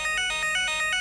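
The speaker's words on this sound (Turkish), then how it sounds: "Şu an alarm çalıştı zaten." Smart home security alarm linked to Philips Hue lighting ringing in a repeating electronic pattern, about five evenly spaced beeping pulses, clear and moderately loud with no talk.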